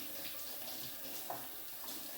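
Celery stalks rinsed under a running kitchen tap, a steady close hiss of flowing water with faint splashes, continuous throughout and no talking.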